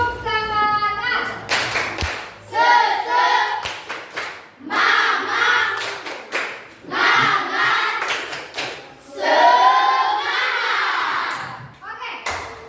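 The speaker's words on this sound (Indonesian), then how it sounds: "Tepuk semangat." A class of young schoolchildren performs a rhythmic spirit clap, bursts of loud hand clapping mixed with shouted chanting voices, repeated in several rounds.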